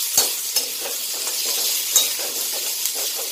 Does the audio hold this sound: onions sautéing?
yes